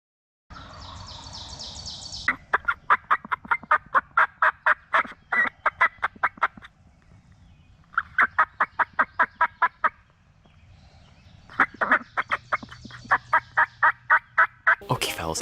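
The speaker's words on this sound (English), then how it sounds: "this is pretty close to the Gobbler. I think he's about 70 yards away, and he is just gobbling his head off" A wild turkey gobbler, roughly 70 yards off, gobbles again and again in bursts of rapid, rattling calls. The calls are clear and fairly loud against a quiet outdoor background.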